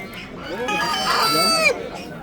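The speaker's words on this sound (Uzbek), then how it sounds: "Xo'rozlar ekan." A rooster crows once at a busy poultry market, a loud drawn-out call rising and falling over about a second, with market chatter and ambient noise around it.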